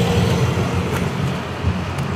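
Steady road traffic on a busy street in the town centre of Crikvenica, Croatia, a continuous low rumble of passing cars with no pauses, close and moderately loud.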